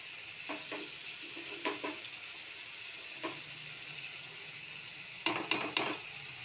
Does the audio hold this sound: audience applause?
no